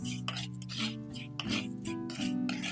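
Salt stirred in a clay pan with a spoon, giving repeated soft scraping and rasping strokes in an uneven rhythm, close and fairly quiet.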